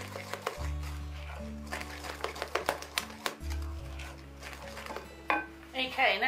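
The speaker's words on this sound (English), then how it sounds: "Just mix that so it's well combined." A spoon scrapes and clinks around a bowl while chocolate self-saucing pudding batter is mixed, giving irregular soft knocks beneath steady background music.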